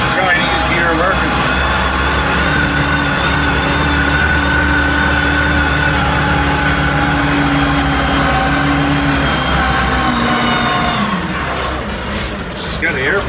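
ZKF 936 front end loader, newly assembled from Chinese parts, with its engine running at a steady, loud idle and a low rumbling drone throughout, while people talk nearby over it.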